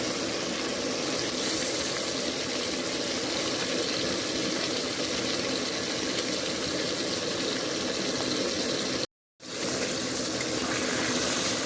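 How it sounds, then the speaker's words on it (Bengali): Gas stove burning during cooking of a Bengali rohu fish curry, a steady broadband roar with no rhythm that holds evenly loud, broken by a brief dropout near the end. "ব্যাকগ্রাউন্ড নয়েজটা একটু ইগনোর করো, কারণ স্টোভে রান্না হচ্ছে।"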